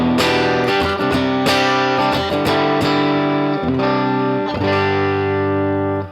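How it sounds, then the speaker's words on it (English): An overdriven Reverend Jetstream 390 electric guitar with P90 pickups plays gritty, distorted chords, loud and sustained, changing every second or so with a brief fade at the end. "I'm kind of pushing the signal a little bit more, so you can kind of hear that"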